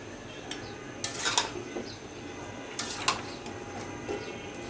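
Spices and garam masala powder being stirred in a cooking pot, heard as faint, scattered metallic clinks and scrapes of a spoon against the pot in small bursts over a quiet room background, with no talking.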